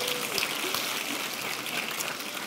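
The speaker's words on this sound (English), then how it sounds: "That's where you clap." Audience applause at the ffconf 2023 tech conference talk, a steady wash of many hands clapping that holds evenly through the short stretch, moderately loud and slightly distant, with no clear speech over it.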